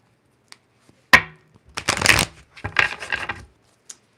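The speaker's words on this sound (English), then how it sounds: "Two more shuffles with these ones." Tarot cards are shuffled close by in a few quick riffling bursts, crisp papery flutters separated by brief pauses and isolated taps.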